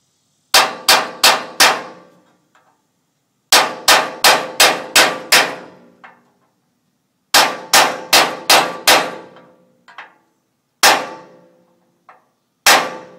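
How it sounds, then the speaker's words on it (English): A hammer strikes a punch or core chisel against a steel trailer weld, ringing clangs in quick bursts of three to five sharp metallic hits separated by pauses, loud and close with no talk. "You might even be able to hit that with the punch now. The core chisel."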